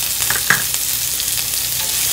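Chopped onion and four curry leaves dropped into hot oil for a dal curry, giving a steady close sizzle with a brief louder crackle near the start, alone without talk.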